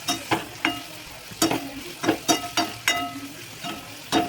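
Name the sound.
green chilies added to onions frying in pan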